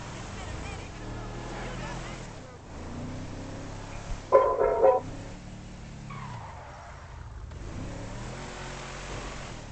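A motorboat engine in the video game GTA 5 drones steadily at moderate level, with a short louder burst in the middle, while someone talks over it throughout.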